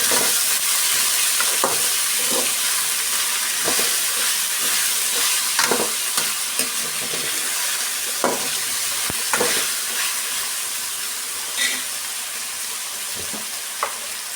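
A spatula scrapes and taps through raw plantain stir-fry (balekayi palya) in a pan, with irregular stirring clicks over a continuous soft sizzle, heard close up with no talking.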